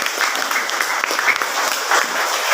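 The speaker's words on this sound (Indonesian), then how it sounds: "Beri tepuk tangan buat Tuhan." A church congregation applauds together, a sustained wash of clapping with scattered louder claps, moderately loud and without speech.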